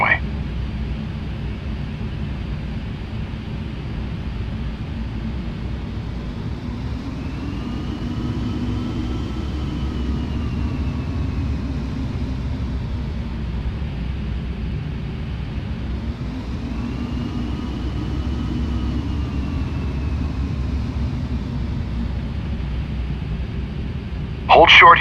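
Steady rumble and engine drone of a small airplane taxiing on the ground toward the runway, a constant muffled hum under a voice talking throughout.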